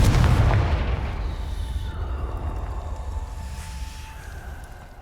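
A Confringo blasting spell explodes in Hogwarts Legacy, a loud deep boom at the start that rolls away into a long fading rumble with faint ringing tones.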